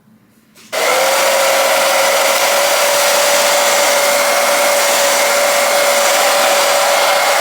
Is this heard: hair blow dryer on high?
yes